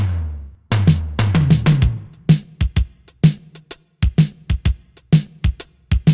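A punchy drum beat: kicks and snare hits in a steady, loud rhythm with sharp cymbal transients, no voices.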